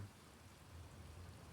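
A strong thunderstorm in Sioux Falls, South Dakota, with 60-65 mph wind gusts brings a steady, faint wash of heavy rain and a low rumble beneath it.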